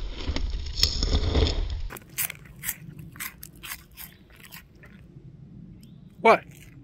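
Crunchy cheese doodles are chewed close up on a solo backpacking trip in the Hammersley Wild Area, with a run of sharp, separate crunches after a noisy opening, and a brief voice near the end.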